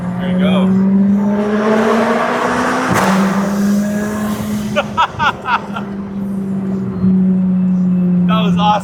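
A McLaren with anti-lag and a pops-and-bangs setting drives with a steady engine drone, broken by several sharp crackling pops around the middle and again near the end, loud and close.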